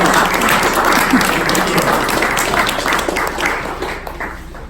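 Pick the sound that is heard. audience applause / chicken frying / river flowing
audience applause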